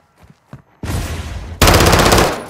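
Gunfire in the Modern Warfare 2 campaign mission Strike U.R.A.: after a couple of faint soft sounds, a loud sustained burst of automatic fire breaks out, then an even louder, denser volley follows.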